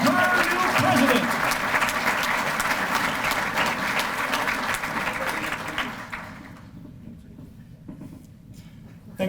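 Applause from a banquet crowd at an annual chamber of commerce dinner in East Peoria, a dense sustained roar of many hands that gradually thins and fades away near the end.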